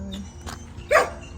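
A dog in a backyard vegetable garden gives one short, clear bark near the end, set against quiet outdoor background.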